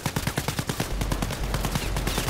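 Rapid gunfire in the VR shooter game Blood & Truth, a quick rhythmic string of loud shots like an automatic weapon, with a low rumbling bed beneath for most of the burst and no speech.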